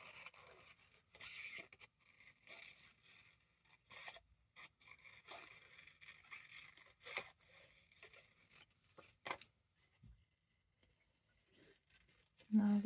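Scissors snipping around vintage book paper during fussy cutting for journaling: faint, scattered crisp cuts and paper rustles at close range, with brief pauses between the snips.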